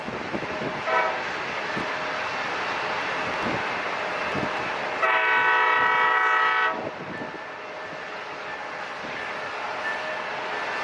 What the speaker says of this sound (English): it's that train right there.